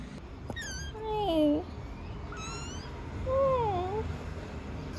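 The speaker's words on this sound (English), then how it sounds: "they've got 2 of these tiny, tiny little kittens" Two tiny kittens, kept as pets at a home near Lake Atitlan, give two clear rising-then-falling meows about two seconds apart, close and fairly loud over faint background noise.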